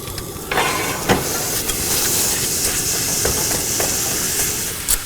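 Ground beef browning in a pan for homemade sloppy joes, a steady broad sizzling hiss that runs throughout with a few small crackles and pops, no talking.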